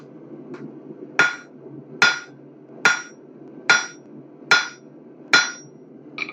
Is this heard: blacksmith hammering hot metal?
yes